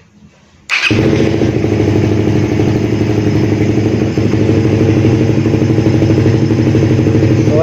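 A Suzuki Raider Fi 150 motorcycle, just reassembled after a heavily dirty throttle body was cleaned, starts with a sudden burst and then idles loudly and steadily up close, its tick-like pulsing continuous to the end.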